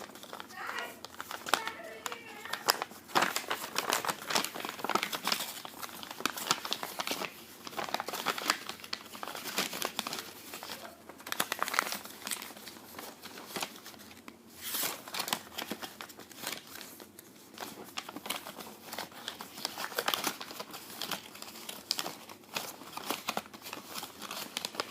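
Label tape from a label maker is folded and crinkled close by, giving a continuous run of soft crackling and rustling bursts, with faint talking.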